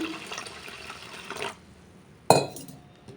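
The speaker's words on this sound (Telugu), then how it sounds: "ఇది వాటర్ పోసుకొని కడుక్కుందాము ఒకసారి" Water splashes and sloshes as moong dal lentils are washed in a bowl, with a sharp clink and swirl midway, after a brief stretch of quiet handling noise.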